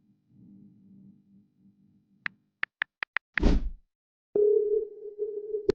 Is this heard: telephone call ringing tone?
yes